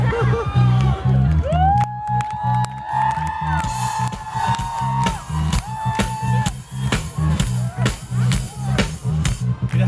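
A large open-air pop concert crowd in Başakşehir cheers and whoops loudly after a song, with shouts and whistles rising over the roar and a voice speaking over it.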